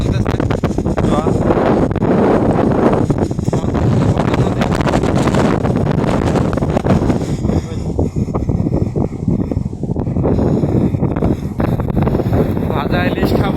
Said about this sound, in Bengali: বাতাস চলতেছে